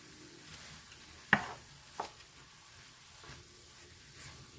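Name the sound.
shepherd's pie filling simmering in a pan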